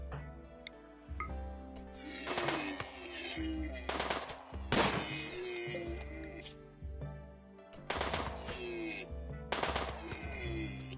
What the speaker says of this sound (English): We gotta start shooting the other one as we run